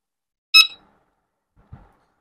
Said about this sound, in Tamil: இப்போ நம்ம கனெக்ட் பண்ணும்போது நமக்கு இப்போ ஒரு பீப் சவுண்ட் வந்தது.